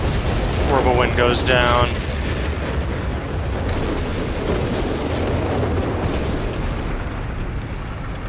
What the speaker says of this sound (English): the howitzer bombarding the med bunker back here